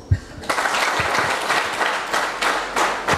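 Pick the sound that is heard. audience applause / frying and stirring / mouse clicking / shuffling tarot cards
audience applause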